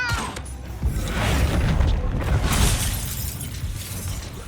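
A Descendo spell slams down in a Hogwarts Legacy battle, landing as a heavy crashing impact with a shattering, booming burst that swells and then slowly fades out.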